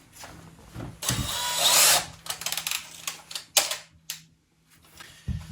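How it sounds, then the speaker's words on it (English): Power drill driving screws through drywall with a dimple bit, several short bursts of whirring and clicking separated by brief pauses, fairly close. "This should go on a drill. You do want it to slide loose from the screw as it goes in"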